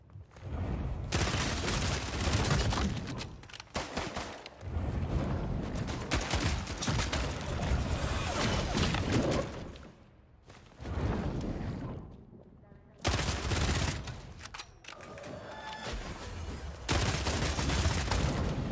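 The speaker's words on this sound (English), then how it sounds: "There's another one who is shooting." Gunfire from another player in the video game Bloodhunt comes as dense bursts of shooting and booming impacts, loud and nearly continuous with brief gaps, under excited talking.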